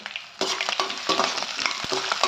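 Chilies sizzle and crackle steadily in hot oil, with a few sharp stirring clicks, close up and with no talking.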